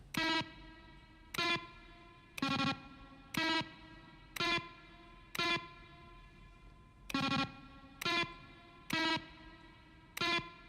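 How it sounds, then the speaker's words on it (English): Button sounds from The Stanley Parable Ultra Deluxe, each a keyboard stroke blended with a synthesized tone, repeating as about eleven evenly spaced sharp beeps roughly once per second, loud and alone. "Each sound is a mix of a keyboard, stroke, and a synthesized tone."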